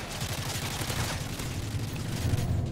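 M4 rifle fire in a Modern Warfare 3 Ground War match on Xbox 360 forms a dense, steady rattle of rapid shots that blur into continuous noise at moderate volume throughout.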